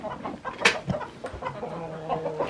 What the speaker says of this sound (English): I'm going to go out here and show off these chickens.